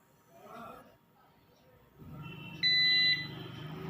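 A Microtek 3kVA 72V Maxx series online UPS gives one short, steady electronic beep as it switches on, over low hum and someone talking nearby.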